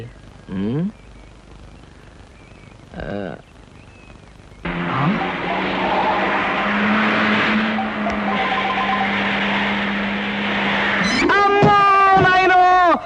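An expensive car in a comedy film sound effect drives past with a steady engine drone, then skids with sharp rising squeals at the end; voices talk briefly before the car comes in.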